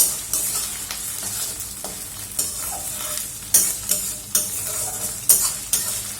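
Ginger paste fries in a pan for lote fish jhuri, a steady close sizzle broken by repeated sharp scrapes and taps of a spatula as it is stirred.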